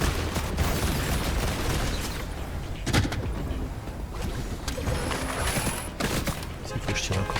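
Gunfire in a Fortnite match, with quick bursts and single shots cracking over a dense, busy soundscape of footsteps, effects and background noise, while a voice occasionally talks underneath.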